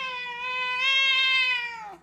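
A huge, very vocal house cat lets out one long, loud meow lasting about two seconds, its pitch holding steady before sliding down at the end, close to the listener with no talking.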